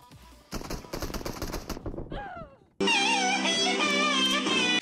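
Gunfire in the mobile shooter PUBG Mobile, with an SKS rifle among the weapons, comes as rapid bursts of shots over about a second and a half, followed by game effects and a loud sustained tonal sound.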